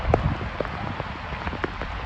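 Steady rain falling in an Indian village, a dense patter of drops hitting surfaces with a few louder nearby splashes, continuous and moderately close, with no talk.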